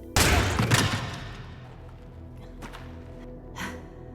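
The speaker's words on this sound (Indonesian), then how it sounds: "ia dikejutkan dengan suara tembakan yang ternyata dilesatkan oleh Hana." Gunfire from a film scene: a loud burst of shots at the start, then fainter isolated cracks a few seconds later, with no talking.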